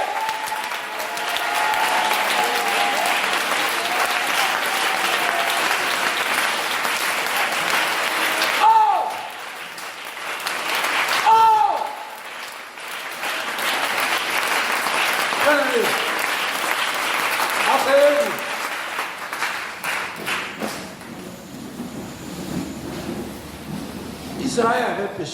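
A church congregation applauds and acclaims Jesus Christ with loud, sustained clapping and cheering that swells and dips, with voices shouting over it.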